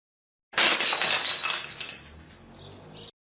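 A porcelain cup hits the floor and shatters in one loud, sharp crash. Bright shards then clink and skitter briefly as the crash dies away.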